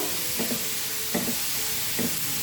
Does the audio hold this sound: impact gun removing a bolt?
no